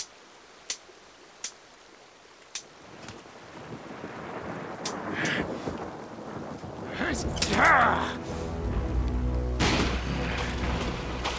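Cartoon rain and thunder: a few sharp cracks of thunder at first, then a steady downpour building with rumbling booms and gusts, under faint distant voices.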